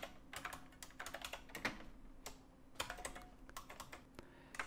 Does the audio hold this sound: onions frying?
no